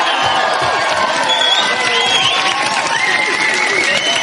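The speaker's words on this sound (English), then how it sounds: "Big round of applause." A studio audience on a TV talk show claps and cheers loudly and continuously, with whoops and shouts rising over dense applause.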